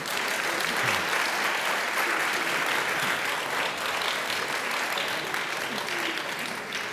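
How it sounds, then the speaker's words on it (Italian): An audience at an economics festival talk in Trento applauds steadily, a sustained wash of many hands clapping with a few faint voices underneath. "Ti prendi giustamente la tua dose di applausi"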